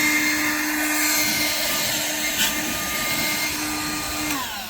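Compressed air blows dust off a freshly routed countertop edge at a sink cutout, a loud, steady, close hiss with a faint whine running throughout.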